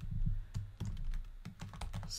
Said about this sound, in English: And let's type Minecraft Scythe